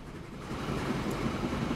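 A train rolling along a line in the video game Transport Fever 2, a steady low rumble of wheels on track with a soft rhythmic clatter, moderately near and continuous without talk.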